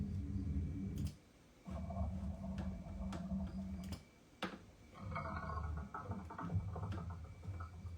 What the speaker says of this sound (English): Sounds like something's being built underwater.